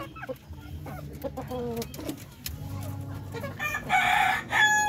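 Darag native hens clucking busily with several short cackles, then a rooster crows loudly near the end; a lively, close farmyard chorus.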